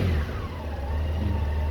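Honda Goldwing GL1800 motorcycle engine revving up close, a loud, smooth mid-pitched rise and fall over a steady rumble, short and alone with no talking.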